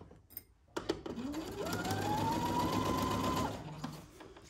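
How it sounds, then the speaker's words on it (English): A sewing machine runs a steady stitching burst on a Simplicity 1802 Cynthia Rowley dress seam, starting after a few clicks and then holding a loud, even whir for about two and a half seconds before slowing and stopping. "But be careful not to sew something we don't need to sew."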